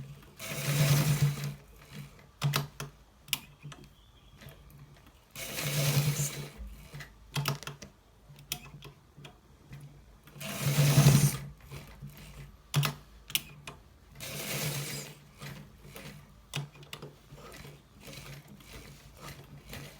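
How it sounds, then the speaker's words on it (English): Normal sewing machine stitching a collar shirt in short bursts of rapid stitching, about four louder runs separated by pauses and quieter handling noises, close up. "this is exactly how we stitch a hose with a normal sewing machine"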